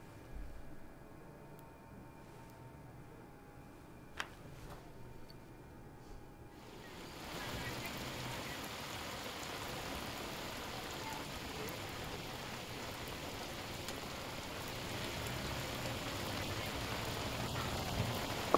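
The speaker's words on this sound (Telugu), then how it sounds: "ప్రస్తుతం అయితే వరంగల్ హన్మకొండ వర్షం కురిసింది" Heavy cyclone rain falls in Warangal, Hanamkonda, starting as a faint background hush and then swelling into a dense, steady roaring hiss that holds without pause.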